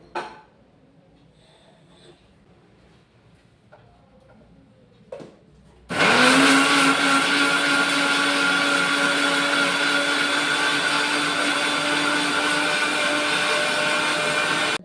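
A mixer grinder pulverises spices for mutton masala into a fine powder. A loud, steady whirring roar kicks in abruptly about six seconds in and runs unbroken to the end, after a few quiet clinks and handling noises.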